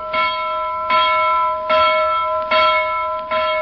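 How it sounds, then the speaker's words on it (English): Captain Cat, in sailor's cap and sea boots, rings his loud get-out-of-bed bell in a seaside town: five bright, ringing strikes roughly every 0.8 seconds, each ringing on with sustained metallic overtones, alone and close. "announces today with his loud get-out-of-bed bell"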